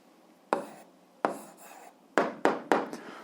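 Pen strokes writing out the answer to an 8th-grade algebra equation exercise, five short scratchy bursts close to the microphone with brief pauses between, no talk.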